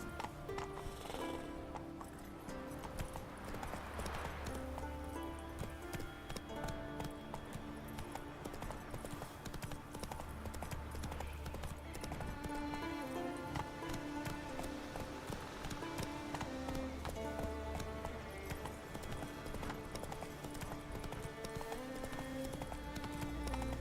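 Roach, the horse in The Witcher 3: Wild Hunt, gallops with a steady, rapid clip-clop of hooves over game music and ambience, continuous throughout and moderately loud.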